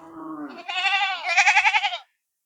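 Black Bengal goats bleating in an open field, two or three loud, close, wavering bleats in quick succession that then cut off into silence.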